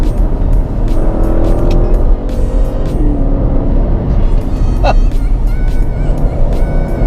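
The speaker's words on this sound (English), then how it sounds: "the rumble of the V8 engine. This car has the stock exhaust. It sounds pretty good." Deep steady rumble of a 2017 Porsche Panamera Turbo V8 running through its stock exhaust on the road, a loud continuous engine drone that stays even throughout with no speech over it.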